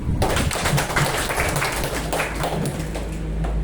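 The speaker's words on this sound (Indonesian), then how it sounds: "Coba yang diberkati tepuk tangan dulu." A church seminar audience claps together in a sustained burst of close, dense applause that continues steadily throughout.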